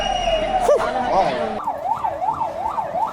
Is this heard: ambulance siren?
yes